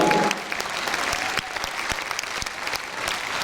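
Audience applause at a concert honoring a folk singer and a folk ensemble, a steady dense clapping from a large crowd that fills the whole stretch with a few sharper individual claps standing out.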